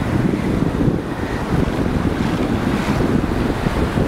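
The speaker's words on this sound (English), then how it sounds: "So I've also got quite a bit of wind." Strong wind buffets the microphone on a beach during surf fishing, a loud continuous roar mixed with waves and surf, with no speech.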